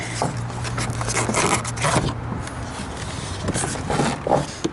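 A door panel on a Chevy, GMC or Cadillac is pulled away from the door, with close scraping and rubbing of plastic against metal, a few clicks and creaks, and no talking.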